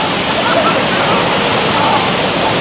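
The Daranak Waterfall in Tanay, Rizal, Philippines roars with a loud, constant broadband rush of falling water heard up close, with a voice faintly under the torrent.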